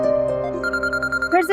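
Phone ringing in a Pakistani TV drama scene: a brief electronic ringtone pulsing in quick repeated notes, overlapped by a voice speaking at the start and end.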